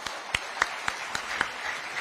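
Audience applause at a speech by former president Park Geun-hye, a steady patter of many hands with a few sharper claps standing out, moderately distant and even throughout.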